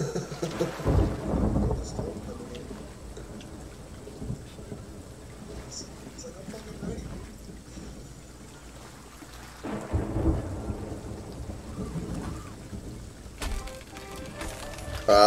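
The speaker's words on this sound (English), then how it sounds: "Might be getting a storm coming in." A thunderstorm in the Sea of Thieves video game brings steady rain with deep rolling thunder that swells near the start and again partway through, heavy and enveloping, with faint voices mixed in.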